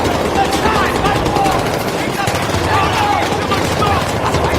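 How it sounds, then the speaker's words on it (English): Gunfire in Battlefield 3 on the Fault Line mission, dense rapid bursts and shots packed into a loud, continuous battle din, with shouting voices and game chatter mixed in throughout. "That was the first bullet being fired in this playthrough."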